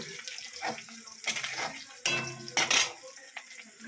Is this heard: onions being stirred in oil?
yes